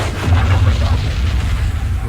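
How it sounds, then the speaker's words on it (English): A deep, rumbling explosion in XCOM 2 rolls on with a heavy low boom that holds steady and loud throughout, with faint background noise on top. "So there's that explosion from earlier"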